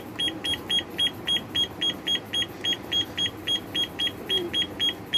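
A digital alarm clock gives a rapid, regular series of short, sharp electronic beeps, evenly spaced and sustained for several seconds over faint background hum.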